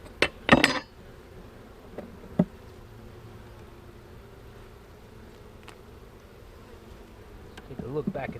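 Honey bees from an opened hive during a brood box reversal drone as a faint steady buzz, with a few sharp clinks of hive tools or frames near the start and a soft knock later.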